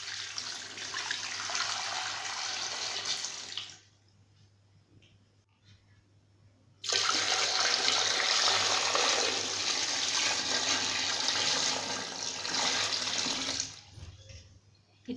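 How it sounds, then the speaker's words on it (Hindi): Water poured into a cooking pot holding peeled corn cobs to be boiled, a loud steady rushing splash that stops, pauses several seconds, then resumes for a longer stretch before ending. "उसके साथ ही ढेर सारा पानी ऐड कर देंगे।"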